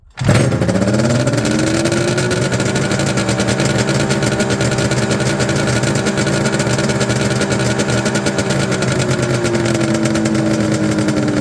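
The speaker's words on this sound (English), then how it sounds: "So now that the engine starts" A triple two-stroke engine swapped into a lawn tractor starts and runs steadily with a buzzing, rattling drone, loud and close, holding a constant pace without letting up.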